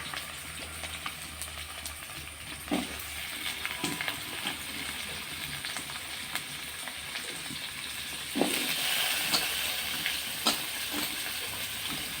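Onion frying in oil, a soft continuous hiss with occasional faint clinks and scrapes, fairly quiet and steady, with a slightly louder burst of sizzle partway through and no talking.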